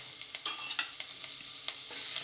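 Ginger, chili and garlic paste sautéing in hot oil with asafoetida and curry leaves in a pan, a soft steady sizzle with a few light stirring clicks, close and fairly quiet.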